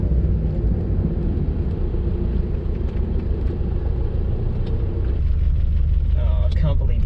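A car being driven hard, its engine giving a loud, steady low rumble throughout, with the roar shifting slightly near the end.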